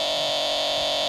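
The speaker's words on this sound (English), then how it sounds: "Okay, the girls have finally gone for the buzzer." A quiz show buzzer sounds as one unbroken, loud, harsh electronic tone that holds steady for the whole moment, with no speech.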